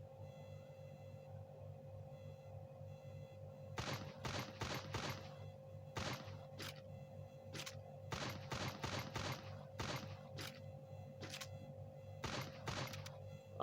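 MP40 submachine gun fire in the Free Fire video game: several sharp bursts of rapid shots in clustered volleys, sitting close and prominent over a steady low game hum.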